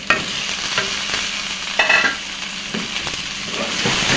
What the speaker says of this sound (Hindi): फिर इसमें हम डालेंगे कीमा